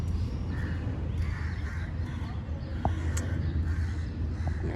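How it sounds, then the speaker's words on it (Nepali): Crows caw intermittently from trees in a quiet garden, faint and somewhat distant over a low steady background hum, with a few scattered short calls. "यहाँ त कागको ब्याकग्राउन्ड म्युजिकले नै ढाकेको छ नि यो रुखै भरि छ"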